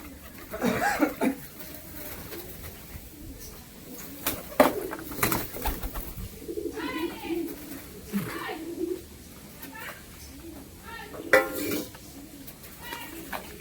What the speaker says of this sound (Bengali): পায়রাগুলোকে খাবার দিয়ে দিই আমি এখন